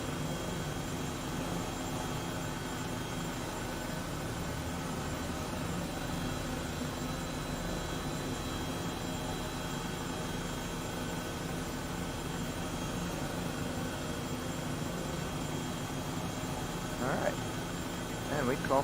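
A steady whine and hum from an H135 helicopter's engine in Microsoft Flight Simulator, a constant droning tone that stays even throughout, with a faint voice near the end.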